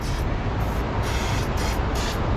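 Steady hissing spray from an aerosol can onto rusty bolts of a 79-seater coach, continuous and fairly loud, with slight pulsing in the upper hiss.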